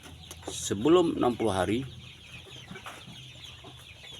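Farm chickens being raised for meat cluck in a short burst of calls near the start, followed by quieter coop background while someone talks over them.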